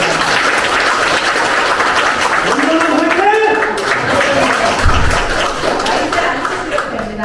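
Audience applause at an association president's inauguration ceremony, a continuous wash of clapping that runs throughout with some voices mixed in.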